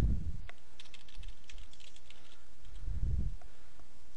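Steady typing on a computer keyboard, entering a comment in an online document: a close, continuous run of quick key clicks with a couple of heavier thumps, no voices.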